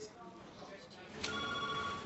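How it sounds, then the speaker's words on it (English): Telephone ringing in a hospital kitchen, a faint ring starting near the end, heard under ongoing speech and kitchen background. "down in the kitchen, the phone starts ringing"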